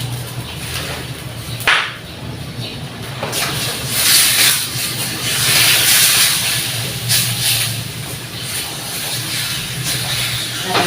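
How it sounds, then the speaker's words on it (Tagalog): Chopsuey ingredients sautéing in a hot pan give a steady, close hiss and sizzle with brief sharper spits of spray, continuous throughout with no talking. "Gigisa pa natin."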